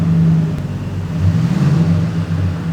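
A car engine with an ignition coil fault runs with a steady low hum and slight rises in revs, close and loud throughout.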